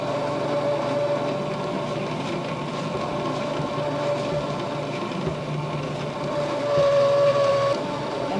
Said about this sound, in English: So you turn your machine on, and you're going to run it through the shredder twice